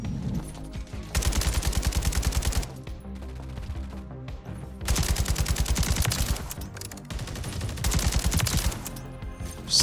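Unsuppressed Kastov 762 rifle fire in Modern Warfare III, loud rapid full-auto bursts in three long strings of about a second and a half each, separated by quieter in-game ambience and music.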